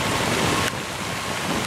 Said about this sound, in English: See the raindrops hitting the water.